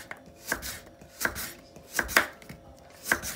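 A knife chops into a hard dried coconut in about five sharp, close strikes spaced roughly half a second to a second apart, each a crisp woody crack with no voices.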